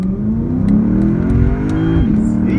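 Lexus IS F and Acura TL accelerating side by side at a drag strip, engines roaring loud and close as they rev up through the gears, with a steady rising drone throughout.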